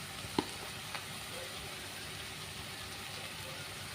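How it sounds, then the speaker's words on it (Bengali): Masala of chili powder and spices fries in a pan for a drumstick-flower (sojna phool) sabji, producing a faint, steady sizzle with a brief spoon clink near the start and no talk. "দিয়ে এটা মশলাটাকে ভালো করে কষবো।"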